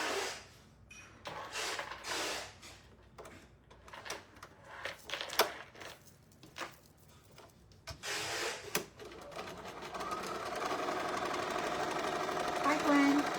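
A sewing machine stitching a candy corn table runner starts in short uneven bursts with pauses, then runs steadily and close for several seconds near the end; some faint talk is mixed in.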